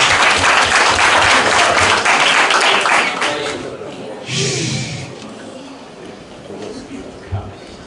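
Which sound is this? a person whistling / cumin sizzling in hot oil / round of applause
round of applause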